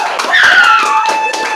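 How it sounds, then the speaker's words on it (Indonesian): Small studio audience clapping on cue, a short burst of scattered hand claps under a sustained tonal sound, fairly close and loud. "Tepuk tangan."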